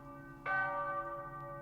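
A single church bell strikes once and rings on, its tone hanging and slowly fading over a low steady hum.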